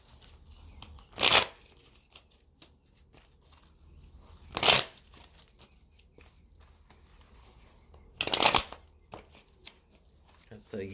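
A Rider-Waite-Smith tarot card deck is shuffled in three short, crisp riffling bursts spaced a few seconds apart, close by, over a faint, quiet background.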